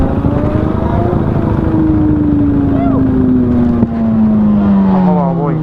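A group of some 30 to 40 small and large motorcycles riding out together on a road from Kakinada toward Annavaram, a steady loud engine drone with rising and falling revs and a brief dip midway.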